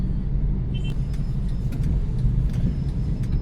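Road traffic at a busy street corner on a rainy day, a steady low rumble of car engines passing close by, with faint higher clicks and knocks over the drone.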